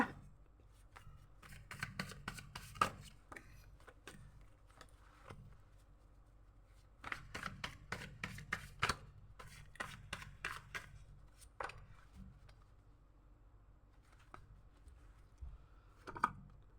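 Fortune-telling cards being shuffled close up in bursts of rapid riffling, separated by short quiet pauses, in a quiet room with no talk.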